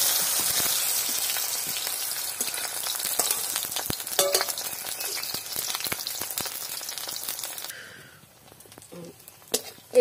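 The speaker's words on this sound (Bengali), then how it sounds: "এরকম করে সবগুলোই আমি ভেজে নেব," Bitter gourd leaf fritters made with rice flour fry in oil, giving a close, crackling sizzle full of small pops that fades away near the end.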